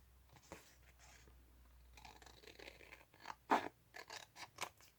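Scissors snip quietly through paper in short, irregular cuts. The snips grow a little crisper toward the end, with soft rustling in a quiet room and no speech.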